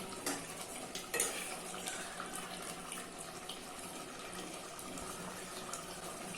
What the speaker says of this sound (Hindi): वो धनिया अभी ऐड कर देंगे और इसको भी अच्छे से मिक्स कर देंगे